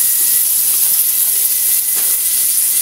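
Chicharong bulaklak frying in a pan over medium heat, giving a steady, close hiss of fat that runs unbroken with no voices.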